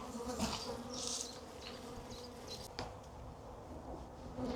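Honeybees hum in a continuous soft drone around a hive as a swarm is moved in, individual bees buzzing past close by over a faint steady background.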